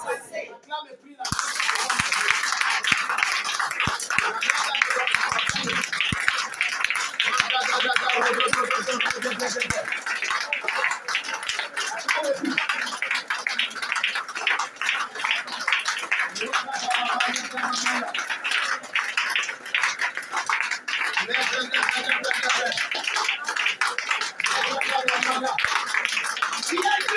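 A church congregation applauding, a dense sustained wash of clapping that begins after a brief opening and continues steadily, with voices speaking and calling out over it throughout.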